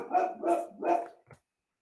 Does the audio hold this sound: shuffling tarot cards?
no